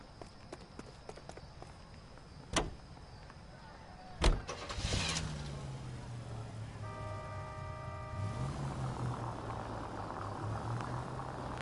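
A 1940s-era car in L.A. Noire starts with a couple of door thunks, then the engine idles and revs into a low steady drone as it drives off, with a brief musical tone in the mix.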